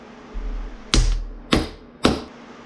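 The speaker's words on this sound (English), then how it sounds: "I'm going to hammer straight down." Three sharp metallic hammer blows strike a threaded stud straight down on a KLX110 dirt bike engine, evenly spaced about half a second apart over a low hum, each ringing briefly before fading.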